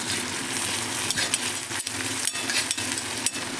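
Onion and curry leaves sauté in a pan for stuffed brinjal curry, giving a loud, continuous sizzle broken by several sharp scrapes and taps of a stirring spoon.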